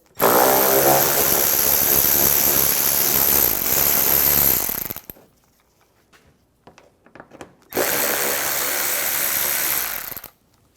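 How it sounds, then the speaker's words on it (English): A power tool spins bolts out with an 8mm socket on a 2009-2013 BMW 328i xDrive during headlight washer pump work. It runs in two long, loud, steady whirring bursts separated by a few seconds of quiet handling. "we'll take these bolts out using an 8mm socket"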